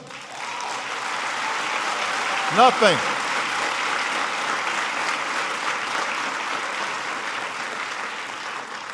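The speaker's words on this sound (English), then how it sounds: "I noticed some of the parents were the first to clap." Audience applause at a high school speech in Brooklyn, New York, steady clapping from a large crowd sustained throughout, with a brief voice rising over it partway through.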